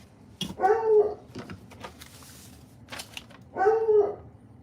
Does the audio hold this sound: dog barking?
yes